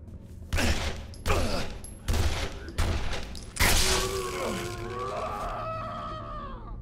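Enemy gunfire in the horror game Condemned, with four loud, close bursts spaced about a second apart, followed by a louder crash and a creaking, ringing tail that fades out.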